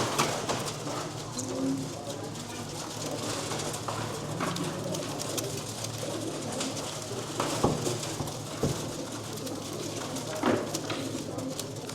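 Racing pigeons in baskets at a marking station coo softly among a busy, noisy background of shuffling and occasional knocks, with faint voices nearby.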